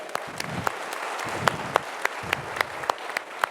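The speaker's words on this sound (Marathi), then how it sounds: "मला एकदम पहिले या सगळ्यांसाठी जोरदार टाळ्या वाजवा." Loud, sustained applause from an audience at a Marathi motivational talk, with a dense wash of many hands clapping together and sharper individual claps standing out throughout.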